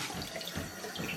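Shower water in a newly renovated bathroom pours and splashes in a steady, close, broadband rush that holds even throughout, with no voices.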